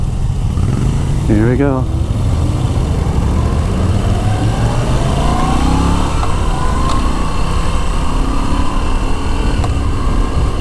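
A Moto Guzzi V7 Stone motorcycle engine hums steadily on a demo ride, with wind noise throughout, the pitch slowly rising as it pulls away and a rider speaking briefly over it.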